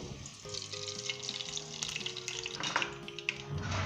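Hot vegetable ghee sizzles and crackles softly in a pot, with faint scattered pops and light clinks, no talking.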